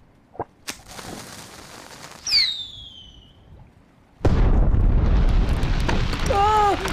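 Fireworks going off in the online battle game Heroes of Newerth: a whistling rocket streaks upward, then a loud sustained burst of crackling explosions fills the rest, with a character's voice speaking over it.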